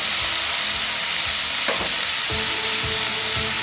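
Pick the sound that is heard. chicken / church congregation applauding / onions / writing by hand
onions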